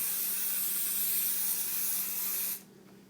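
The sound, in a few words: spray adhesive sprayed on fabric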